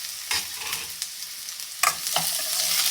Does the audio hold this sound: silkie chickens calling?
no